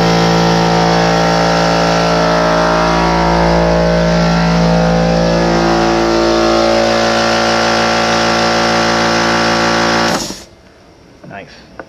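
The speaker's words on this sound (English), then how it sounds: "If I flick this switch on, the compressor will likely kick on." An air compressor and blower motor in a homemade computer-cleaning setup run loudly and steadily with a constant tonal hum for about ten seconds, then cut off abruptly, leaving quiet room sound.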